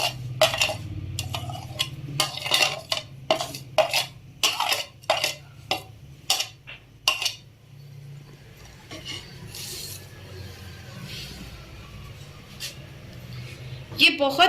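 Roasted vermicelli stirred into boiling milk in a pot for sheer khurma, heard as a quick run of sharp spoon-on-pot clinks and scrapes over a low bubbling rumble, then quieter steady simmering with a voice speaking nearby.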